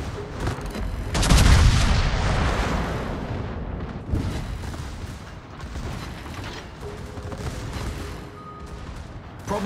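Heavy warship naval guns in a video game fire with a deep booming blast, followed by rumbling, crackling echoes and mechanical clatter that fade and swell across several seconds.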